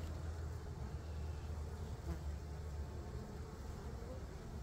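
Steady, dense buzzing of many honeybees close by at an apiary hive, a continuous low drone that hovers without pause.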